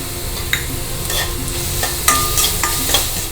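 Chopped ridge gourd sautéing in hot oil with tomato, turmeric and salt, a steady sizzle with repeated sharp scrapes and clicks of a stirring spoon against the pan, no voices.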